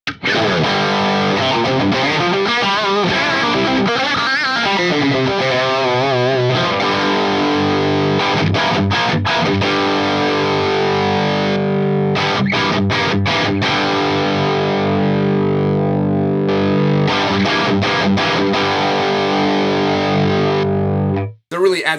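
Heavily distorted electric guitar through an Axe-Fx III amp modeler with a Marshall tone, gritty, playing sustained chords and choppy rhythmic stabs, loud and close.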